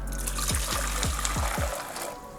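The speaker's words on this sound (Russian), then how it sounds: "Берем кастрюльку, наливаем в нее кипяток" Boiling water is poured into a saucepan to make a water bath for melting chocolate, giving a steady liquid gush and trickle with a sloshing filling sound. It starts up close and tapers off near the end.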